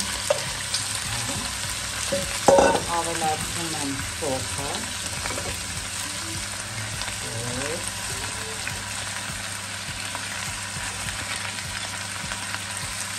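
Potatoes for Georgian ojakhuri sizzle steadily in a hot frying pan, a constant crackling hiss with a few clinks of stirring, while someone speaks briefly.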